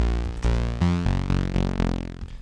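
A buzzy, detuned sawtooth synth bass plays a few sustained notes, thick and swirling with shifting phasing, heard alone without any voices.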